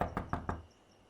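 Four sharp, evenly spaced knocks on a door, close and fairly quiet, then a faint hum of room tone.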